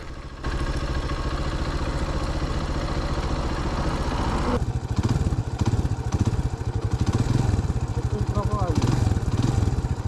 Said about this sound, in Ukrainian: в Юри почав барахлити байк